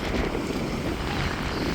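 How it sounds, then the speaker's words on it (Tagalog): Steady, blustery, cold wind roars across an open microphone at the sea in the UK, with a low rumble of the open water nearby; no voices. "bugnaw kay ang hangin"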